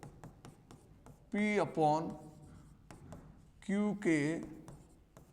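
Chalk or marker scratching rapidly across a classroom board in short strokes, a fine dry scraping texture running under a voice explaining a maths problem.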